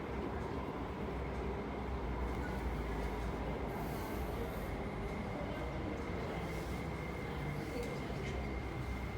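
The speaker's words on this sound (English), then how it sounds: "The train to Wukaisha is arriving." A metro train arrives at Sung Wong Toi station on an underground platform, a steady rumbling roar of wheels and carriages with faint squeal, continuous and moderately loud throughout.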